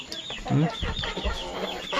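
Chickens clucking in short, busy bursts close by, with some faint background chatter mixed in.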